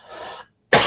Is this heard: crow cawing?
no